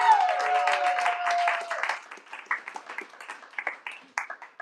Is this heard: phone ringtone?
no